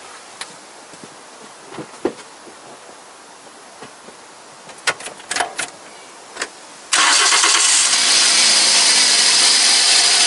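A Toyota Corolla VVT-i engine, just fitted with a new valve cover gasket, cranks and catches partway through after some faint clicks and handling noises, then runs loud and steady to the end.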